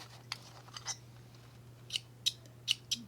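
Several quick, crisp snips of scissors, faint and close, spaced irregularly with a soft hum underneath.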